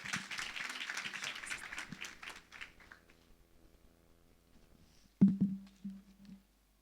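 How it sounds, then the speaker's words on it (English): A conference audience at the Africa Indaba event gives a short burst of applause that fades over about two seconds, followed by quiet and then a brief loud thump and hum near the microphone. "A round of applause for her, please."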